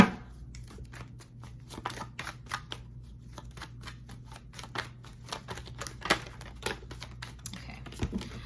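A tarot deck being shuffled by hand, with a run of quick, close riffling card snaps and flutters at an irregular pace over a quiet background, no speech.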